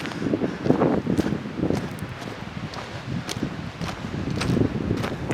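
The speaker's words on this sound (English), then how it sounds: "We're heading north into a windstorm." Strong mountain wind gusts across a hiking microphone, a rough, rumbling buffeting that swells and fades continuously, with faint rustling in between.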